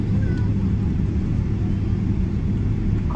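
Inside an airliner that has just landed at New Chitose Airport after a flight from Haneda, a steady low cabin rumble holds throughout at a fairly loud level.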